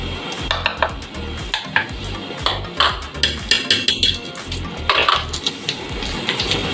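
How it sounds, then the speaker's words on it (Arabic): Quick metallic scraping and clinking of a whisk against a pot while making béchamel sauce, repeated in an uneven rhythm, close and fairly loud. "اشتغل بقى المضرب السحري بتاعي، يجي دوره."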